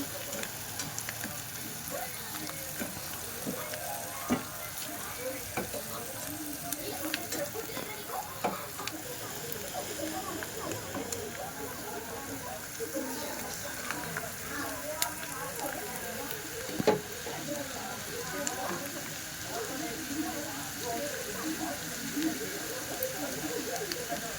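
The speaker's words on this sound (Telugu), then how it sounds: "కొంచెం పచ్చివాసన పోయేదాకా వేగనివ్వాలి" Sliced bitter gourd frying in oil in a pan, a steady close sizzle and crackle that runs continuously with occasional stirring scrapes.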